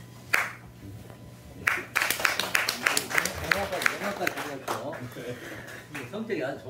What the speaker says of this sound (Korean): 자, 여러분, 크게 박수 한번 드리시죠.